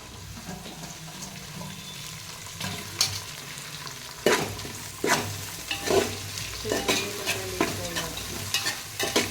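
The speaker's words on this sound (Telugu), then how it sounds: "ఇవన్నీ కొంచెం డీప్ ఫ్రై కావాలి డీప్ ఫ్రై అయ్యేదాకా ఇట్లా ఇట్లా వేయించుకోవాలన్నమాట" Chicken and carrot pieces with mint deep frying in hot oil while being stirred, a steady close sizzle broken by repeated scraping stir strokes that grow more frequent toward the end, with no talking.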